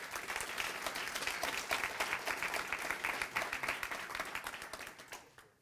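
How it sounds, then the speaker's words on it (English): Audience at a tech conference talk on Jetpack Benchmark bursts into sustained applause, dense and steady, then thins out and fades over the last second. "Can I have a round of applause?"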